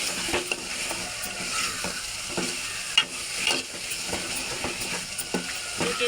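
Dried fish frying in a pan and being stirred, a soft continuous sizzle with repeated scraping clicks of a spoon against the pan, close up.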